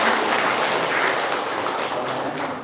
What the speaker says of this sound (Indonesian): cobain dulu, tepuk tangan dulu